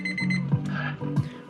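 An alarm clock rings in a steady electronic beeping pattern, loud and close, repeating without pause for the whole moment, with no talking over it.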